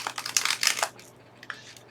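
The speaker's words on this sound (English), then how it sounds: "So let's just do one more shuffle." A tarot card deck is shuffled close by: a dense, crisp riffle of papery rustling for about a second, then a few faint soft taps as the cards settle, with no talking.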